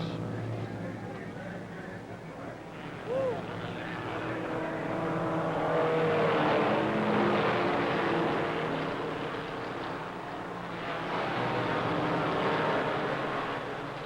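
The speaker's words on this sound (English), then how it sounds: "with Ruttman out, blasts into the lead on the 13th lap" Race cars at the 1957 Indy 500 roar past in a continuous engine drone that swells and fades, heard under a narrator talking over it.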